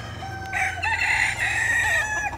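Chickens and roosters in a park at Parque Água Branca, São Paulo: a close, loud rooster crow drawn out over about two seconds, with faint clucking and low background noise around it and no talk.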